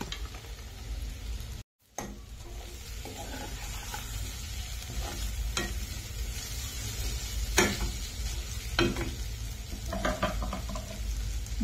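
Sesame seeds sizzle in hot oil in a pan for a Maharashtrian rice and aloo wadi dish, with a steady frying hiss and occasional sharp clacks of a spoon stirring.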